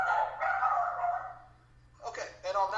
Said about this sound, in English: with my dogs barking in the background